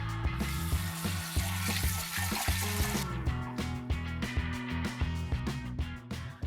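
Anchovies being rinsed under a running kitchen tap, a steady close splash and trickle of water with irregular clinks and taps layered over it, and a softer flow in the second half.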